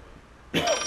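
A telephone in the horror game Layers of Fear starts ringing abruptly after a quiet moment, a single loud bright bell ring cut short.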